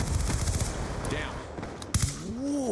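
Rapid gunfire from the video game Black Ops 2, with repeated close shotgun blasts and bursts over about three seconds and in-game effects mixed in.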